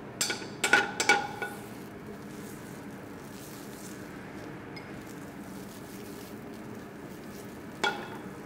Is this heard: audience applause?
no